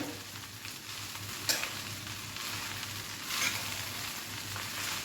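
Sabudana khichdi is turned over in a hot pan, with a steady soft sizzle and a couple of brief scraping stirs rising above it.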